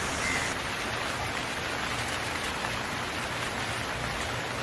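Rain falls steadily in an animated story, an even, continuous patter and hiss of moderate loudness with no voices.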